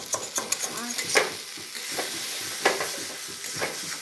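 Potatoes fry and are stirred in a pan in a home kitchen, making a steady crackling sizzle broken by scraping stirs. The sound is fairly soft, with no talking.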